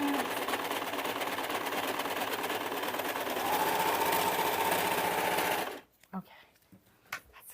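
A sewing machine stitches a ruffle onto a handmade oven towel with a continuous fast mechanical whir, close and loud, then stops abruptly with brief talking afterward.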